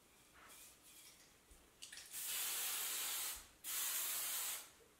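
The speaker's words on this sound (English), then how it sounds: "spray it with hairspray" Two long, close hissing bursts of hairspray from an aerosol can, preceded by a few short quiet puffs.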